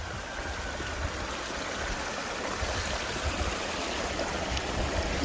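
Valley stream flowing past a mountain village, a steady close rushing and gurgling of water that continues evenly with no voices.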